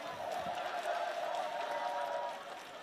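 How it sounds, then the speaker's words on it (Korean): An audience at a political rally applauds in a dense, steady clatter of many clapping hands, holding fairly even before easing slightly at the end. "큰 박수 다시 한번 부탁드립니다"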